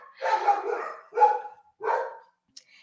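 Dogs bark in a residential neighborhood: three loud, fairly close bursts about a second apart, each a rough, raspy woof, followed by a short faint yip, with no one talking.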